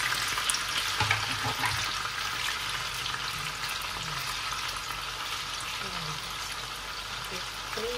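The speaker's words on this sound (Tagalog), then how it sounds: "Ilalagay ko na yung tofu." Tofu frying in hot oil in a pan: a constant crackling sizzle, fairly close and steady, with occasional stirring and a low background rumble.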